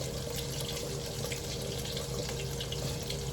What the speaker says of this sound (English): Don't worry about that pot that's going, y'all. That's my beans.